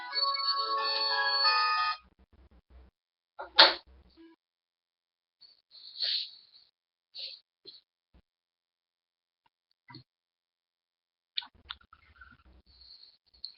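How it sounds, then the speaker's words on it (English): A phone rings in one short electronic burst of trilling tones at the start, followed by long near-silence broken by faint clicks and scattered small noises. "Phone rings again"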